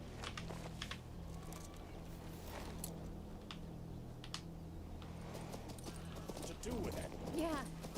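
Rhythmic hoof clip-clops of a horse in the video game King's Bounty II, steady and moderately loud over a droning music bed, with a voice talking over parts of it.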